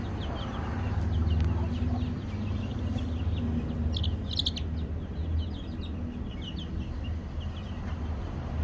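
Chickens at a farm during vaccination day, scattered clucks and chirpy calls over a low background rumble, with a cluster of sharper squawks midway and faint activity around.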